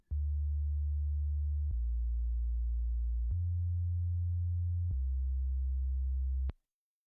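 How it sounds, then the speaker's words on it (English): Sub bass synthesizer patch playing a pure sine wave an octave lower, four sustained low notes of under two seconds each in sequence, smooth and steady with faint clicks at each change, heard alone. "Patch 4 is nothing but just a sub bass. It's just kept to an octave lower. It's kept to a sine wave"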